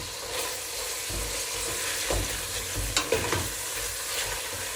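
Onion frying and caramelizing in hot oil for a fennel tajine, a steady sizzle broken by a few scraping stirs of a spoon through the pan.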